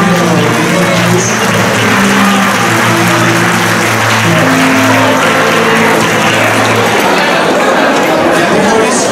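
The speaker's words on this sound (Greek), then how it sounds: "Ένα πολύ μεγάλο χειροκρότημα στα παιδιά" A crowd at a traditional annual dance event applauds the children, a continuous dense wash of clapping with voices and music running underneath throughout.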